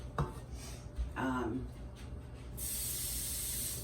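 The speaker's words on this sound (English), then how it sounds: "You're gonna have steam coming off the lid" Steam hisses loudly and steadily from the lid of a pot of slow-cooking Italian beans and sausage, following a few clinks and scrapes of the pot.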